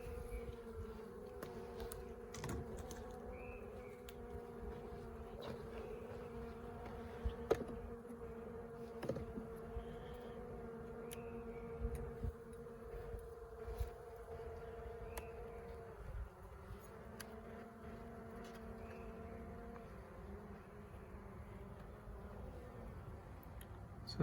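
Honey bees buzz in an open hive in a continuous, close drone with shifting pitch, joined by scattered faint ticks and knocks.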